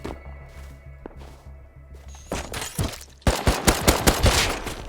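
An auto turret fires in a survival video game: a low mechanical hum first, then close loud bursts of rapid gunshots hammering in a quick repeated rhythm.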